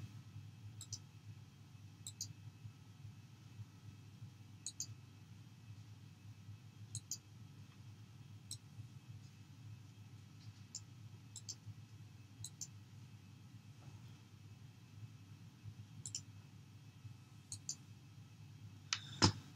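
Computer mouse clicks sound while formatting cells in a spreadsheet, sparse single and double clicks scattered irregularly over a low background hum, quiet and close, with no speech.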